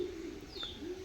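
A domestic pigeon cooing nearby, a soft low throaty coo repeated over a quiet background with a faint brief chirp.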